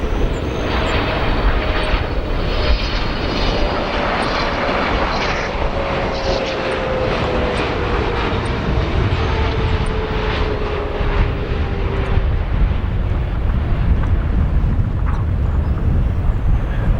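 A Boeing 777 airliner landing at O'Hare airport, a loud sustained jet roar with a slowly falling whine across the whole stretch, heard from the ground with no voices over it.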